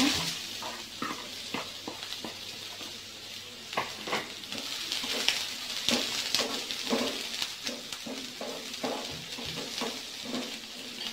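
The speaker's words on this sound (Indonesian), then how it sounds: "ini saya tumis dulu bawang bombaynya" Finely sliced onions sauté in a pan, giving a continuous sizzle under repeated scraping and tapping of a utensil in an irregular rhythm, close and moderately loud.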